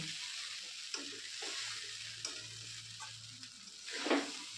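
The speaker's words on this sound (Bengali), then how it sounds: "এবার আমি খুব ভালোভাবে সব উপকরণগুলোকে মিশিয়ে নেব" A spatula stirs poha with peppercorn powder, fried peanuts and cashews in a pan, producing soft scraping strokes over a steady, faint sizzle of frying, with no voices.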